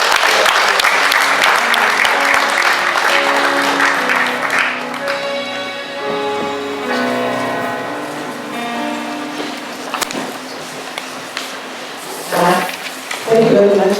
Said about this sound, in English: So please give a warm applause.